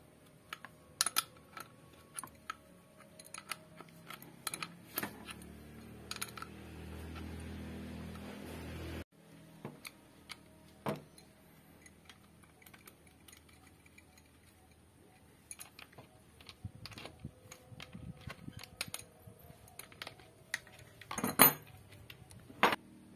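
Metal wrench tightening a 1-inch valve fitting, heard as scattered close clinks and taps with short scraping bursts, separated by quiet gaps and no speech.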